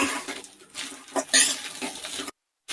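A spoon stirs salt into food in a cooking pan, giving a few quick scraping clatters against the metal before the sound cuts off.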